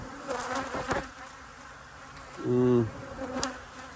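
Honeybees buzz around a beehive on an outdoor stand, mostly as a faint hum. One bee passes close and loud with a brief drone, and other buzzes flit by more softly.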